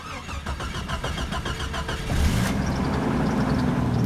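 A Jeep XJ with an overdrive four-speed transmission cranks with a rapid, rhythmic starter chug for about two seconds, then fires and settles into a steady, close idle.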